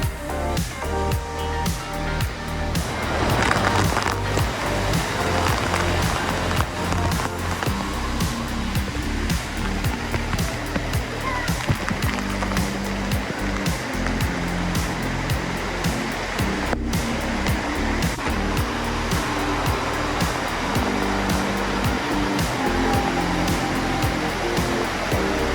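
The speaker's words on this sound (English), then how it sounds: "Everyone knows when you hear the dinging, that means the massive water bucket's about to drop." A giant water bucket dumps and splashes at Fort McKenzie, an indoor water park at Great Wolf Lodge, with a loud, continuous roar of cascading water that swells near the start and then stays steady.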